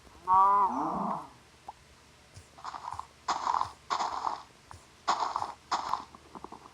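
A video game cow moos several times, one long low call followed by a series of shorter moos spaced apart, fairly close with no talking.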